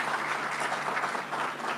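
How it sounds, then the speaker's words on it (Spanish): Audience applause after a presentation at a conference on early warning systems and connecting communities, a steady dense wash of many hands clapping throughout, moderately loud with no talking over it. "un aplauso"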